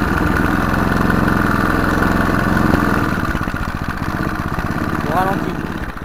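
Lawnmower petrol engine running on choke, a steady loud drone with an even, rapid beat that holds throughout with a slight dip midway, alongside speech-like sound.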